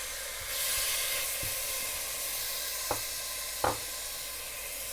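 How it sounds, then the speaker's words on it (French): Onions sizzling in rancid butter in a cooking pot for Moroccan harira, a steady frying hiss with a few sharp clinks of a utensil against the pot. "nos oignons"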